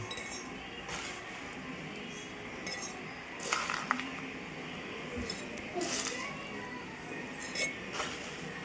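Homemade pop rice being poured into a glass bottle, faint scattered clinks and rattles against glass over a low background hiss, with no talking.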